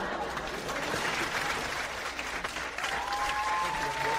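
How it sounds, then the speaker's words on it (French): A studio audience breaks into sustained, full applause, dense and even from start to finish, with a faint tonal whistle or voice-like tone rising near the end. "je vais demander des applaudissements pour le sans éducation"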